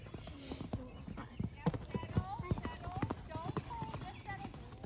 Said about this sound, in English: What's his name, the horse?